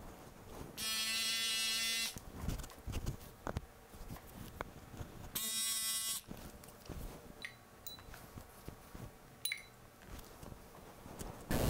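Electric hair clippers with guards cut hair during a men's medium-length fade haircut, giving two loud buzzing bursts separated by quieter handling clicks and rustling.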